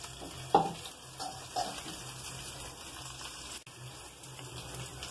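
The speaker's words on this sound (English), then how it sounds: "I put the rice very carefully." Cooked rice being added to a pan for restaurant-style mixed fried rice, a faint crackling sizzle with a couple of soft knocks early on, then a sudden brief thud, quiet and close with no speech.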